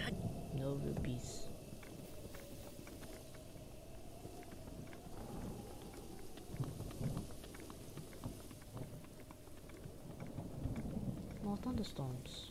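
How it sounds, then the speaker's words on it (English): A thunderstorm with rain plays in the video game Breath of the Wild: steady rain hiss with low rumbles of thunder, under someone talking intermittently and game music. "More thunderstorms."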